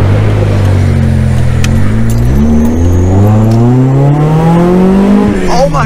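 A Toyota AE71 with a 4A-G engine revving hard, a loud, close engine note climbing steadily in pitch through a sustained rise before easing off at the end.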